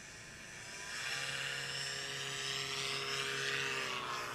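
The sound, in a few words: small STOL aircraft taking off, two-stroke engine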